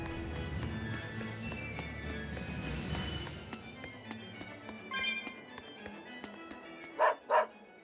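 In the Tales of Berseria video game, two quick dog barks ring out near the end, loud and close, following a stretch of busy game music and effects.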